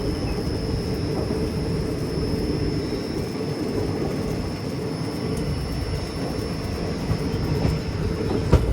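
Kacheguda to Nagercoil 16353 train running slowly through fog past coconut groves, a steady, loud rolling rumble of wheels and carriages with a faint high whine, continuous throughout with no voices.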